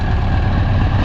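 Straight-piped Scania V8 truck idling, a loud, steady low rumble with a constant deep throb and no pauses, heard alone at close range.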